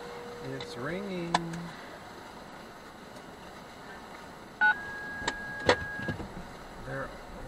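A phone call rings out during a delivery driver's stop in Las Vegas, a faint, steady tone that repeats over quiet car noise and a few short electronic beeps.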